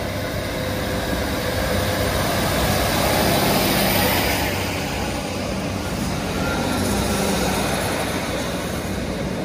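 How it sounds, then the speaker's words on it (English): A passenger train pulls away from a station after its riders step off, a broad continuous rumble and hiss that swells midway and slowly eases, heard close and alone. "Just got off this train, and watch it go"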